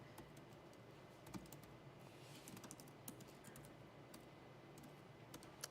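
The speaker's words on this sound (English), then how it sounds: "It's a bit different on typing on the podium." Someone types on a computer keyboard at a conference podium, a faint, steady patter of key clicks with a few sharper taps, set against a low room hum and no talking.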